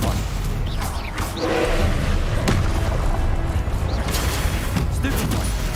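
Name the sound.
spells cast in Hogwarts Legacy video game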